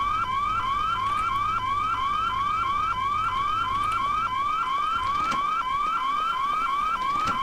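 A fire alarm in the Hitman Blood Money video game wails with a loud, steady rising sweep that repeats rapidly and without a break, electronic and piercing, with no voices over it.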